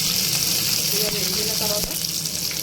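Urad dal, chana dal, cumin and mustard seeds fry in hot oil, giving a continuous close crackling sizzle with small pops and a faint stirring clink; no one talks.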